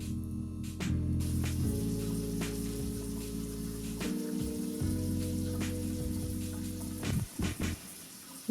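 Running water from a shower rinses shampoo out of starter locs, a steady loud spray that shifts in tone as the water hits hair and skin, breaking into spatters near the end.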